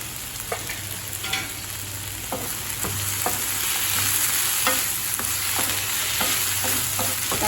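Onions and tomatoes sautéing in a pan for a paneer masala gravy, a steady close sizzle with spoon taps and stirring scrapes at irregular intervals, no voices over it.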